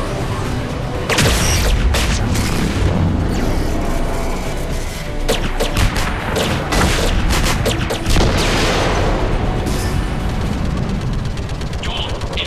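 Turret gun fire in Mass Effect 3, dense continuous booming bursts and rapid shots throughout a battle scene, loud and close, with voices talking over it.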